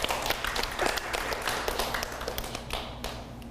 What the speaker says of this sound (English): that's a round of applause, I think, for that one